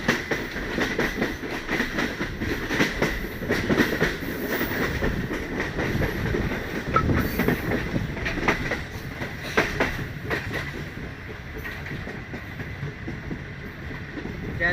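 The 33UP passenger train on Pakistan's main line near Tando Adam rumbles along with steady wheel clatter and rhythmic clicks over the rails, heard from inside, continuous and fairly loud with no talk.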